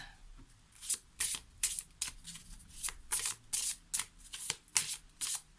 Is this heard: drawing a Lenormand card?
yes